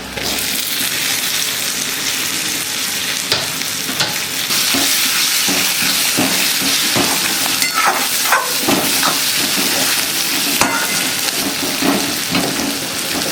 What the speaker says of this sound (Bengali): অল্প অল্প মশলাগুলো ভেজে গেছে, এবার দিয়ে দেবো টমেটো।